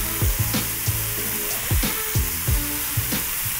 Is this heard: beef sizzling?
yes